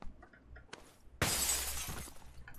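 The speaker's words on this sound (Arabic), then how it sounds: "ايه تكسير درايش" A window shattering in the PUBG Lite shooter game: a faint knock, then a sudden loud crash of breaking glass with a bright spray of shards that rings out and tails off over about a second.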